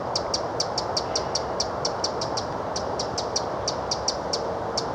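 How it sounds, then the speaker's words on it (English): A wren sings loudly on a countryside walk near Oxted, Surrey, in November: a long run of evenly spaced, high, bright notes over a steady background hiss, clear and fairly close. "Big song for a small bird. Apparently it's got one of the loudest voices in the bird world"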